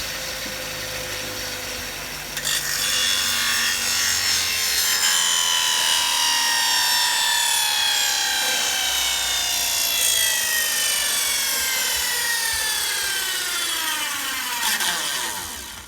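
A power saw spins down after cutting red oak flooring, a loud whirring whine that drops steadily in pitch over many seconds before fading out, with no talking.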